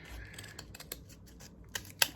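Scissors snipping through paper craft tags decorated with lace, a few quiet, sparse crisp cuts at close range with light rustling and no voices.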